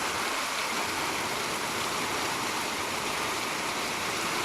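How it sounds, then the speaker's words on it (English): Dense, steady hiss of heavy rain pouring down, constant and enveloping with no pauses or voices. "It's been raining non-stop for 36 hours."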